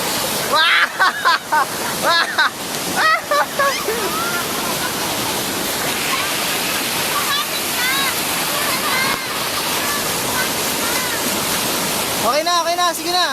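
Strong waterfall at Mother Falls in Baler roars as a steady broadband rush, with excited voices laughing and shouting over it near the start and again at the end.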